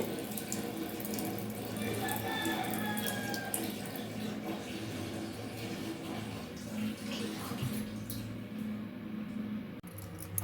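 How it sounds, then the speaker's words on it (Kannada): Water pours and splashes steadily as it is drained off soaked rice, a continuous close trickle and gush with small drips, moderately faint and alone. "ಅಕ್ಕಿಯನ್ನು ನಾನು ನೆನೆಸಿಟ್ಕೊಂಡಿದ್ದೀನಿ ನೀರೆಲ್ಲ ಬಗ್ಗಿಸ್ಕೊಳ್ಳೋಣ"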